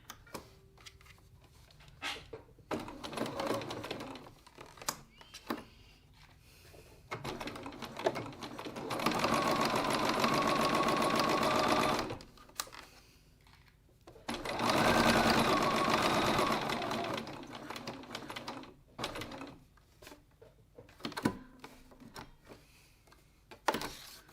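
A sewing machine stitches a wallet flap at a 2.4 stitch length, running in two steady bursts of a few seconds each, with quiet pauses between them and in the setup before and after.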